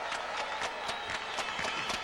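Japanese crowd applauding at the Formula 1 podium after the 1995 Japanese Grand Prix, a dense, continuous patter of clapping from a large audience, heard at a distance and steady throughout.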